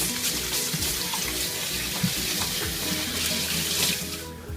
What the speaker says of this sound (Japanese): 手を洗います。